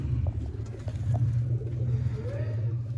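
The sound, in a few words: pigeons cooing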